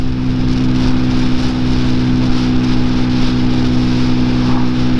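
A Peugeot PM-01 motorbike engine drones steadily and loudly as it climbs a hill in sixth gear at around 55, a constant close-up hum with no speech.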